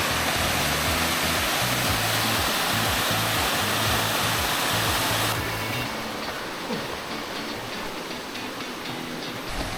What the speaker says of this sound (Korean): 저게 비룡폭포인가